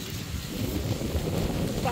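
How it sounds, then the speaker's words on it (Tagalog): Strong wind buffeting an outdoor microphone, a steady loud rumble under people talking. "Super lakas ang hangin."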